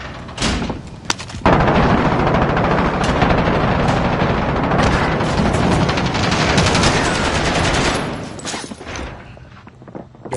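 Dense gunfire from a PS4 shooter game roars in sustained loud bursts, machine-gun fusillades running almost nonstop with a brief break early on before tapering near the end.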